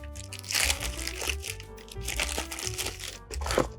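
Packaging for a Rossi R92 lever-action rifle being torn open during an unboxing, with close crinkling and crunching of paper and plastic in irregular bursts, heaviest at the start and end.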